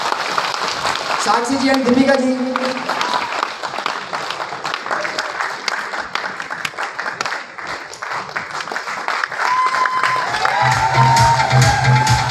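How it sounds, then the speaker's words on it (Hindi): Loud, continuous applause with cheering and whoops from a large audience in a Jaipur auditorium at a direct selling recognition meeting, while someone speaks over it on a microphone and music plays near the end. "तालियों में कोई कमी नहीं होनी चाहिए"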